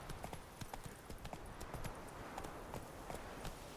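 In The Witcher, the horse Roach trots with quick, regular clip-clop hoofbeats at close range, faint and steady throughout.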